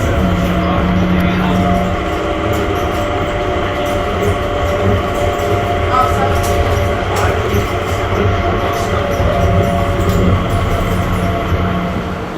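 An airport people-mover train runs steadily to its gate at Dubai Airport, a continuous loud rumble of wheels and motor with a sustained hum, no voices heard.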